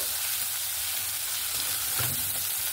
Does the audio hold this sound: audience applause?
no